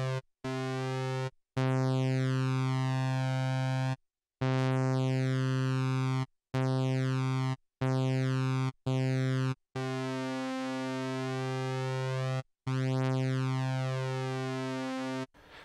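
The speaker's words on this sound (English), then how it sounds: "I've got two oscillators playing, just holding down one note, so you can hear the very, very slight variations that you hear from one note to the next." Moog ONE synthesizer sustaining a single note on two slightly detuned oscillators, a steady bright buzzy tone with slow beating, sounded in repeated held bursts separated by short silences.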